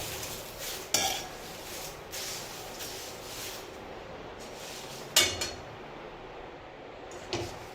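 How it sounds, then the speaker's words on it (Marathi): Whole spices dry-roast in a pan without oil for Konkan goda masala, heard as a few sharp metallic clinks and scrapes of a spoon against the pan over a quiet rustling background. "यात मी तेल टाकलेलं नाही, कोरडाच भाजून घेते."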